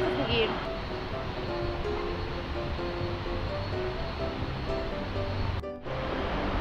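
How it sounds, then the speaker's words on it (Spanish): Steady rushing roar of the largest waterfall on a creek, a broad continuous wash of falling water heard from a distance, with a brief dropout near the end. "podemos observar la cascada principal, que es la cascada más grande que tenemos"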